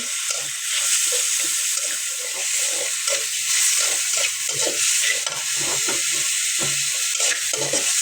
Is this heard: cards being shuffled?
no